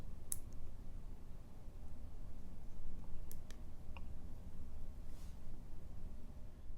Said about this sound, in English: you can feel it click when you go between these